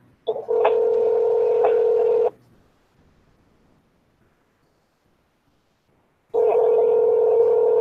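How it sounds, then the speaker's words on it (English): A phone call rings out over the line, a steady electronic ringback tone sounding in two long bursts separated by about four seconds of silence, loud and clear with no voices. "The person you called has a voicemail box and has not been set up yet."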